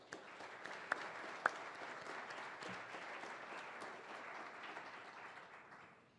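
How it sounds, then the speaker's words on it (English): An audience at a City Club of Portland public forum claps in warm, steady applause that holds for several seconds and then fades. It sounds faint and diffuse, with a few sharper individual claps near the start. "Please join me in a warm round of applause for all of them."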